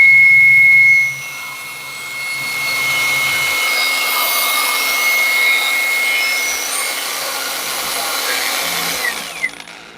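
A Vrill VAG2100 brushless cordless angle grinder spins up and runs at a steady high-pitched whine with a constant whir, after a brief lower hum at the start, fairly loud and close with no talking.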